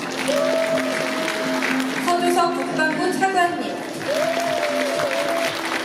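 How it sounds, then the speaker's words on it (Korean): Applause from the audience at a civic festival ceremony in Pocheon, a steady patter of clapping running throughout while an announcer speaks over it with amplified voice. "다시 한번 박수 부탁드립니다."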